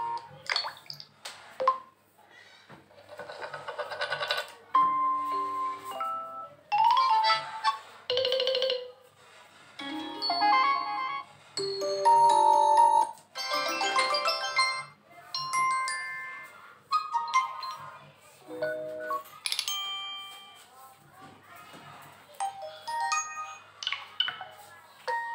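Notification tone previews play one after another on an iQOO Z5 phone, a series of short chimes, melodic jingles and bright electronic tones, each separated by brief pauses, loud and close, with no talk.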